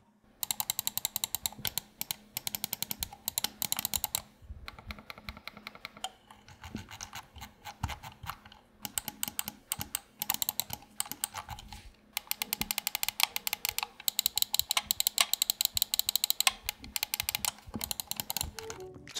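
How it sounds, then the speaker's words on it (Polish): Repeated clicking of a Redragon ST4R PRO computer mouse: close, crisp bursts of rapid clicks come in clusters with short pauses between, alone and fairly quiet. "A teraz posłuchajcie przez chwilę, jak ta myszka klika."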